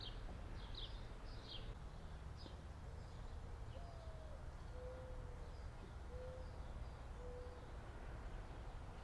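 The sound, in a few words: mourning doves cooing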